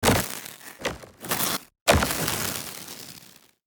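Layered electricity crackle sound design for robots, built from bot damage crackles: sharp crackling hits and bursts packed close together, a short gap, then a final crackle tail that fades out.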